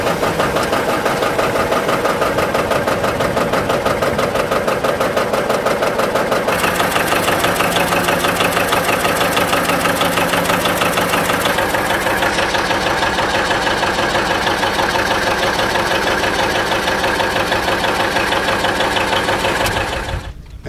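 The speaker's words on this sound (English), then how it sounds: "cranks the motor over, give it compression back, and it starts the tractor up" A John Deere Model 80 two-cylinder diesel tractor engine runs steadily at a tractor expo, with a loud, continuous, even rhythmic chug that stays close and unbroken before cutting off at the end.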